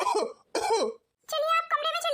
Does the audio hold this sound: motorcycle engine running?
no